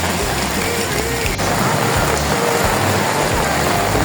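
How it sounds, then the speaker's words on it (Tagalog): Heavy rain pours on a city street in Manila, a dense, steady hiss at high level with a low rumble of traffic underneath. "Lakas ng ulan."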